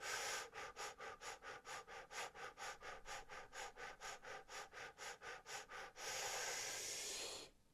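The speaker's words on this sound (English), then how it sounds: "Fire breathe again." Fire breathing exercise: about twenty quick, forceful rhythmic breaths in a steady pulse, followed by one long drawn-out breath, close and clear with no talking.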